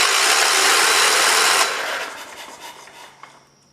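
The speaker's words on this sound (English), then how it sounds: "Let me go on ahead and turn the engine over and make sure the valves still go up." A 1973 Kohler K301 engine, cylinder head off during a head gasket replacement and valve adjustment, is turned over by hand: a loud scraping, rasping rush, then fading mechanical clicks and ticks as it slows, with no talking.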